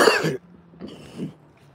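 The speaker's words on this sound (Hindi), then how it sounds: "खांसी भी हो रही है मुझे" A sharp, close cough followed by a couple of softer throat-clearing rasps, with nothing else audible.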